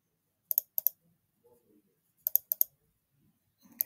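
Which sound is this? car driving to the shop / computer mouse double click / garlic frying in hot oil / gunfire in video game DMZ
computer mouse double click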